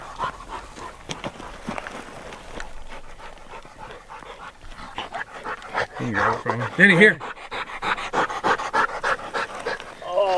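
A hunting dog pants rapidly and close by after a retrieve, a quick run of breathy huffs with a few small whimpers, while someone speaks over it.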